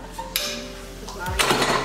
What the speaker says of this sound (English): And I'm going to turn the mixer on.